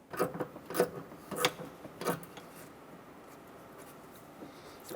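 A hand ratchet clicks as a bolt is tightened under a 2008-2012 Honda Accord during radiator cooling fan work, four or five sharp, close bursts of clicking in the first two seconds, then quiet rustling.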